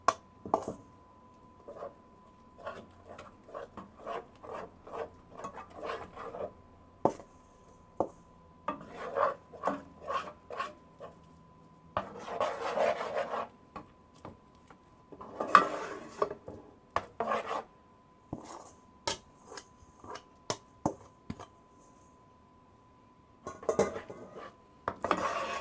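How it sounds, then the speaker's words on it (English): A spoon scraping and rasping around a pan as milk is stirred into sugar over very low heat for Trini milk barfi, with repeated rhythmic strokes and occasional metallic knocks heard close and fairly quiet, with no speech. "So make sure you get all the milk mixed in with the sugar."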